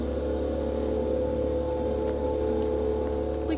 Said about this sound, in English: he's literally blowing leaves